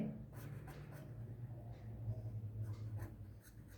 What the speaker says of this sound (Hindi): यहाँ लिख देती हूँ